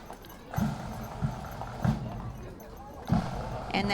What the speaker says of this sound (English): that wagon had Jason McCaution and his horses in it